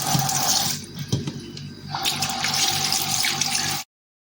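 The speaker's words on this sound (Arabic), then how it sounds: "اغسل بقى كده كويس" Running tap water splashes over cabbage held under the stream, briefly interrupted and then flowing again, close and steady until it cuts off.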